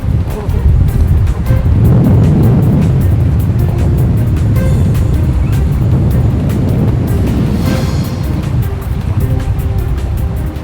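Heavy high sea swell surging around a barge during subsea cable-laying work between Jindo and Jeju, a loud continuous wash of water and wind buffeting the microphone throughout, with no pause.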